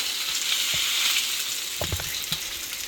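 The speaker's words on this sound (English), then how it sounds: "We cook the shit out of our bacon" Bacon fries in a pan, cooked until very crispy, giving a constant close sizzle with a few sharper crackles and spatula knocks near the end. Nobody speaks.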